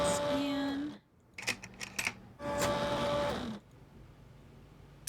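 Electronic scanning sounds from the gadget in the Nancy Drew: Alibi in Ashes video game: a steady humming scan with tones, a pause filled with several short clicks and chirps, then a second humming burst that stops abruptly.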